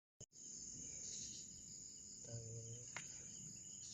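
Steady, continuous chirping of crickets fills the background, with a brief bird call joining in near the end.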